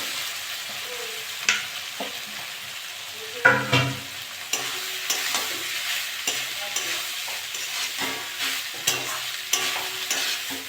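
Shrimp and chopped banana stem fry in a pan, a soft continuous sizzle broken by repeated scraping and clanking stir strokes, spaced irregularly, close and fairly quiet, no talking.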